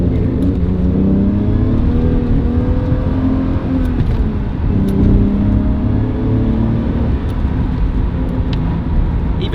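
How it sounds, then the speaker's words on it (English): Aston Martin DB7 manual with high-flow catalysts, its exhaust revving and accelerating under load in a steady, loud rising and falling engine note heard from inside the car, with no talking. "the DB7 makes a glorious exhaust note"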